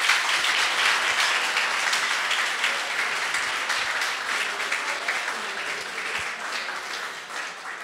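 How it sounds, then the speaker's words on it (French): An audience claps again after a sensational performance at a motivational event, a sustained and steady roar of many hands that slowly fades over several seconds. "c'était vraiment une prestation vraiment sensationnelle que je vous demande de l'applaudir"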